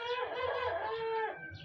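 A Shamo asil rooster gives a short, harmonic calling vocalization to hens, rising and wavering for over a second, close and fairly clear against quiet background.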